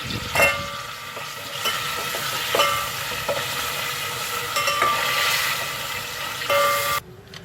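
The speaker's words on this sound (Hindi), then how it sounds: "अब हम इसमें अपना नमक ऐड कर देंगे चिकन के साथ। ब्राउन करना है।" Chicken browning with salt in a hot pan gives a steady, close sizzle, with scraping and clattering stirring strokes throughout and no voices.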